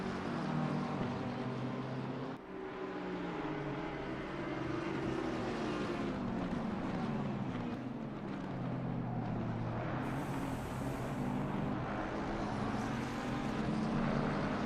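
Race car engines strain around the technical Laguna Seca circuit in a sim racing game, a dense, continuous roar of several cars with pitch sweeping up and down through gear changes, loud and steady throughout.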